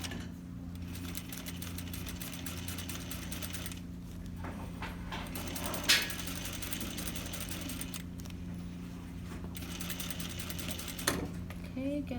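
A sewing machine back stitches while sewing a lapped zipper. Its motor whirs steadily over several seconds, broken by short pauses and small clicks, and a voice talks over it.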